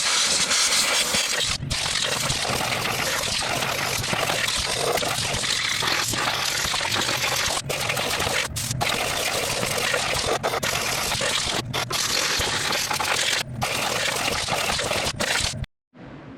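Compressed air blasting junk out of parts from a 1979 Kohler 12 hp K301 engine, a loud, steady broadband hiss running almost nonstop with a few brief breaks before cutting off at the end.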